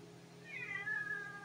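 An old, grumpy female cat gives one drawn-out, rising-then-falling meow, faint and close, with no other sound around it.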